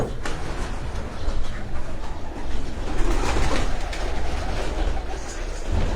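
Pigeons coo in a rooftop breeding setup, soft repeated cooing under a continuous rumbling background and occasional voices.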